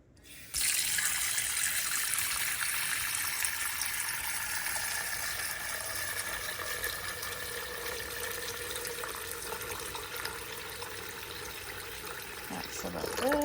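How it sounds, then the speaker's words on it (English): Tap water gushes steadily into a pan for pork bone broth, a close, continuous splashing rush that slowly deepens in pitch as the pan fills, ending with a brief clatter. "I'm gonna fill this up with water."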